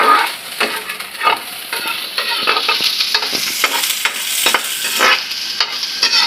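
Onion and garlic sizzle loudly in a hot pan as a utensil stirs them, giving a steady crackling hiss broken by repeated scraping strokes.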